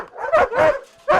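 Bicolor German shepherds, dogs trained for guarding and aggression at a breeding kennel, bark loudly and close by in three gruff bursts with a short whine between them.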